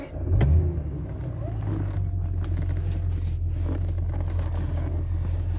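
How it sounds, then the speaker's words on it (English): A Daimler V8 250 engine idles with a misfire, a low uneven rumble after a brief louder burst at the start, running steadily close by. "Definitely get this misfire."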